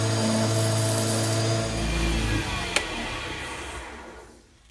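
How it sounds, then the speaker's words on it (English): A steampunk .50 caliber bottle opener pen being worked over with sandpaper, giving a steady, loud rubbing scrape that runs through most of the clip and fades near the end, with one sharp click partway. "I'm just going to work that down with some sandpaper"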